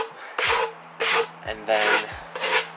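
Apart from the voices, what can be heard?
sanding the edge of a wooden outdoor bench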